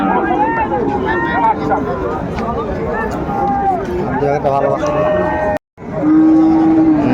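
A young Sahiwal bull moos repeatedly at a busy cattle market in Dinajpur, loud and near, amid crowd voices, with a brief drop to silence before one last drawn-out call.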